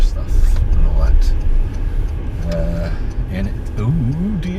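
Road traffic is heard from inside a Renault Zoe EV: a low, steady road rumble with faint passing-vehicle noise and a few brief clicks.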